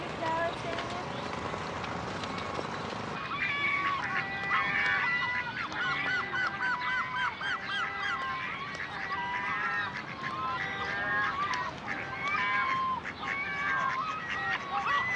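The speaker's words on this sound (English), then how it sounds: "Feeding the ducks in the green is a great pastime." Ducks and drakes on the St Stephen's Green pond in Dublin, repeated nasal quacks and honks in a busy rhythm over outdoor park ambience, fairly close, with voices in the background.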